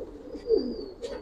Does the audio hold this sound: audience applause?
no